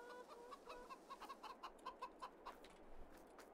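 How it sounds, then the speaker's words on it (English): Chickens in a farming video game cluck softly in a quick, uneven series of short calls, faint and alone with no talk over them. "Let's go and feed our chickens."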